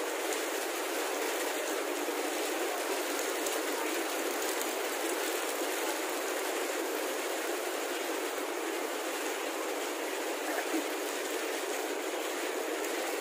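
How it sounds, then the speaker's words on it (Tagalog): Heavy rain pours steadily in a Philippine outdoor setting near a mall, a dense, constant hiss with scattered drop impacts, loud and unbroken throughout with no voices. "Pagalakas ng ulan."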